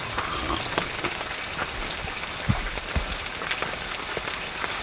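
Steady rain pattering on a hot tent during a cold overnight camp, a dense close hiss of drops with occasional louder individual taps and no voices.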